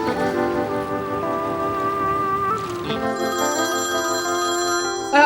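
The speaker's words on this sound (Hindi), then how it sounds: "देखो उस खबीस की कॉल है।" A phone rings with an incoming call, its electronic ringtone repeating in steady tonal pulses, loud and close, with no talk over it.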